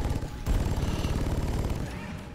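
Sustained automatic gunfire in a video game, a fast, steady stream of rhythmic shots that starts abruptly and keeps hammering for the whole stretch, loud and close, with no talking over it.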